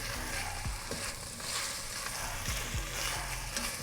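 Garlic frying in butter gives a dense, steady sizzle from close by, with occasional soft knocks of a spoon stirring the pan, and no voices over it.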